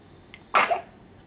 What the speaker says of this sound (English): Bless you. Sneeze.